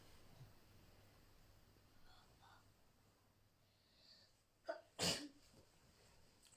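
One loud, abrupt sneeze in a quiet room, preceded by faint breathy sounds and a soft intake of breath.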